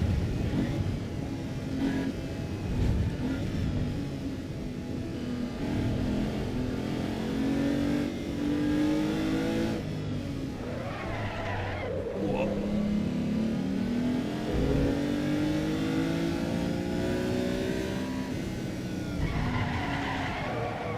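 A vintage race car in Assetto Corsa EVO revs and accelerates through shifting engine notes, with tire squeal and skidding, while someone talks over it and exclaims once.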